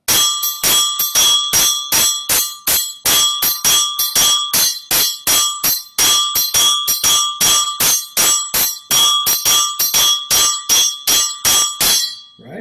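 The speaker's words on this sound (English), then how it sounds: "So that's the bell part." Struck bell part from a djembe workshop rings out in a steady, evenly spaced pattern of bright metallic hits, dozens of sharp close strikes repeating without pause, with no drums or voices alongside.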